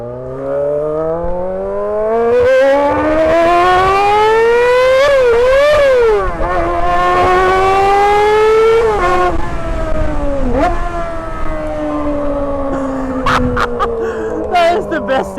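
A high-revving inline-four motorcycle engine that redlines at 20,000 RPM, loud and shrill, rising and falling through repeated sharp revs. Laughter and voices are heard around it.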